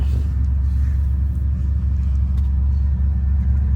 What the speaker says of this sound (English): Yeah, dude, that's the AC.